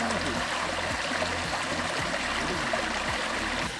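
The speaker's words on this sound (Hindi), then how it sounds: "छोटी सी प्यारी सी आबशार है, मगर इस पानी की जो आवाज़ आ रही है उसमें परिंदों के चहचहाने की जो आवाज़" Small waterfall on a hiking trail in the Margalla Hills near Islamabad, water rushing and splashing steadily at close range, a continuous wash with no clear talk over it.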